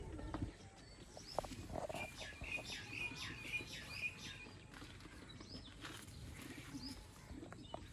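Sialkoti pigeons, grey and khaki birds kept in a loft, coo and chirp in short repeated calls at moderate distance, with faint shuffling steps and background noise.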